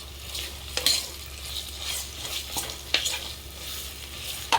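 Ginger garlic paste fries with browned onions for a mutton biryani, a steady close sizzle broken by a few sharp spoon scrapes and taps against the pot.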